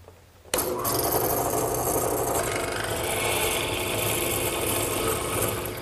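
A drill press with a mortising chisel bores square mortises straight down into the top rail of a 2x4 garden bench, a loud, steady grinding rasp of cutting wood that starts abruptly and runs on continuously, close up with no talking.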